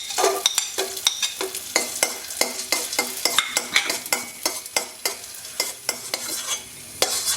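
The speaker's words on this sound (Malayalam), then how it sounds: "ഈ ഡ്രൈ ഫ്രൂട്ട്സ് ഒന്ന് ചെറുതായിട്ടൊന്ന് വഴട്ടിയെടുക്കാം" Cashews and raisins sautéing in ghee in a pan, stirred with a spoon that scrapes and clinks in a steady, repeated rhythm over a soft, continuous sizzle, close and clear with no talking.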